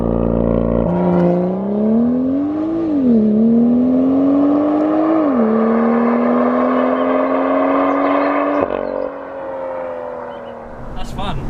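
BMW M2 launching under launch control from inside the cabin, the engine note surging loud and climbing through several quick automatic gear changes in steady rising sweeps, then easing off near the end.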